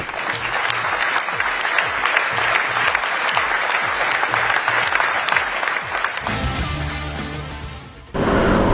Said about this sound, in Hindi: ये जोरदार तालियों के साथ आइए स्वागत करते हैं